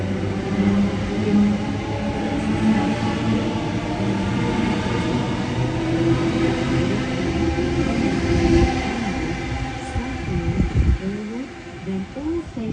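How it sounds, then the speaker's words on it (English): An eight-car Waratah electric passenger train pulls away from a platform at Yagoona station, Sydney, a steady close rumble of wheels and motors building and rolling on for several seconds. "an 8-car Waratah Bankstown service departing platform 1 at Yagoona."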